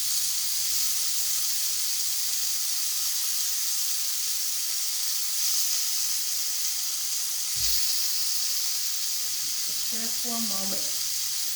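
Rosemary garlic lamb chops sizzle and fry in a pan on a stovetop. The hiss is steady and close throughout. A voice speaks briefly near the end, and there are a couple of faint clinks.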